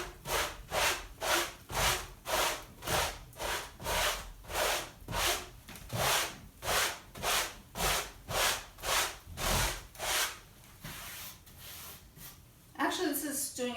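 Hand-smoothing rough spots on a dried fireplace surface, a close rhythmic back-and-forth abrasive rasp of about sixteen even strokes, then softer rubbing and a voice speaking at the end.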